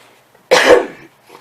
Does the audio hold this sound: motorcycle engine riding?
no